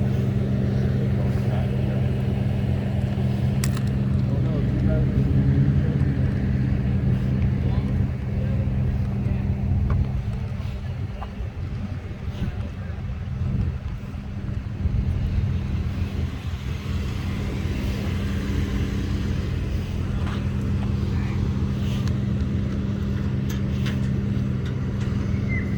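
Road traffic on a California street, a steady near rumble of passing cars with wind buffeting the microphone and a gentle swell and fade as vehicles go by.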